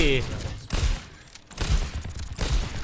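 Gunfire in a shooter video game, dense bursts of shots in close succession with a short lull between volleys, loud and continuous across the clip.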